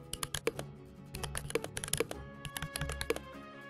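Rapid clicky typing on a computer keyboard with mechanical-style sound customization, a fast irregular run of sharp close keystrokes with no voice.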